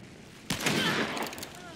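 A single sharp sniper rifle shot in the video game Hunt: Showdown, a loud crack followed by a rolling echo and fading reverberation.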